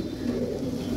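A Kalsira pigeon being handled, giving a short, soft cooing close by, with no talk.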